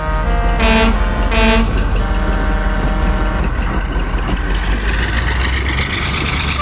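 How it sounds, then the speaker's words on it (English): A diesel locomotive engine roars loudly close by, a heavy sustained rumble with a couple of short horn toots near the start, then the engine noise keeps droning on its own. "Oh, sorry, that's my engine. It gives off a roar."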